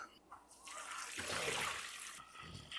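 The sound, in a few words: pork bone broth poured into a pot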